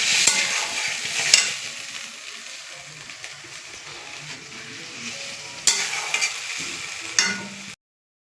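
Fish curry with potatoes cooks in a pan, giving a steady close sizzle and bubbling with occasional scraping stirs, alone before falling silent at the end.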